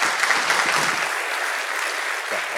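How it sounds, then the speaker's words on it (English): Audience at a Docker conference talk on Kubernetes support claps for two presenters, a dense, steady burst of applause that fills the room throughout and thins slightly near the end. "Please, a warm applause for Alex and David."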